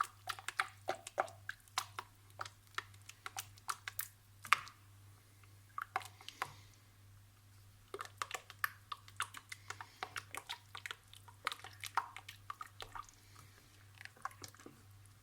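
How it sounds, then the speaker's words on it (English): A spoon stirs tomato puree into Moroccan harira soup in a pot, giving soft, irregular wet clicks and scrapes over a low steady hum, close and quiet, with no voices. "we're gonna stir very well because we have to dissolve the tomato"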